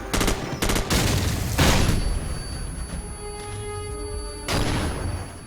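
Gunfire in the Call of Duty 4 video game: rapid bursts of automatic shots, then a lull with a lingering ringing tone and another heavy burst, loud and continuous, with no speech.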